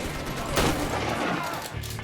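A single sharp gunshot from a firearm in the video game Mafia 3, a loud burst that quickly fades into a dull background rumble.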